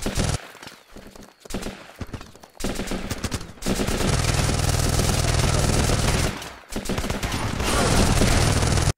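Rifle gunfire in the video game Running With Rifles, with sustained rapid bursts and shots layered through a dense, loud battle soundscape, briefly dropping out before resuming heavy continuous fire.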